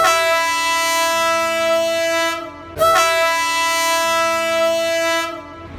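A loud train horn blares in two long, harmonically rich blasts with a brief gap between them, close by at Afyon train station, over the rumble of a passing train.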